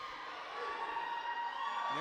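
Fans cheer and whoop during a Thanksgiving night 2023 professional wrestling show. The crowd noise is steady and somewhat distant, with a commentator talking over it.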